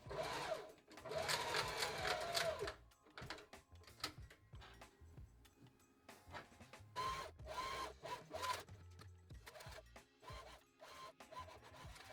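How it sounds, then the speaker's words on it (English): A sewing machine stitches thick thrifted sweater squares together, running in bursts of fast rhythmic whirring with short pauses between seams, close up and fairly quiet, with no one talking. "Then I went and started sewing my squares together row by row."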